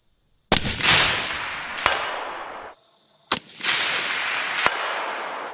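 Rifle shots fired at a target outdoors, two sharp loud cracks each followed by a long rolling echo, with fainter sharp clicks or taps between them.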